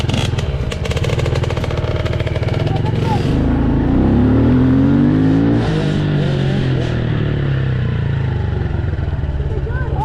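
Dirt bike engine revving at full throttle in a backyard, a loud, close, rasping roar that climbs in pitch, holds and then eases off, with voices talking over it.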